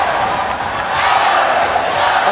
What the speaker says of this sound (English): the crowd is loving this main event